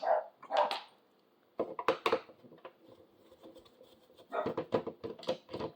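Dog barking indoors during a repair of a stuck PS2 disc drawer: two sharp barks open the stretch, then after a short pause comes a run of rapid, loud, close barks, with a further burst near the end.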